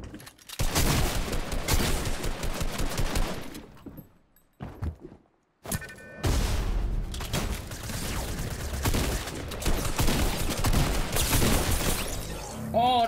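Dense bursts of gunfire in a Fortnite match, loud and close, with rapid shots and cracks broken by a short lull before the shooting resumes.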